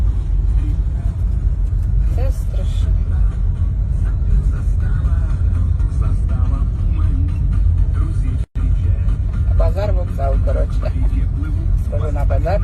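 Cars in a busy train station lot on a weekend day give a steady, loud engine rumble and road noise throughout, with someone talking over it.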